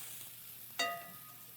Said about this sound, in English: I'm going to add a little bit of stock because I love a little bit of stock on there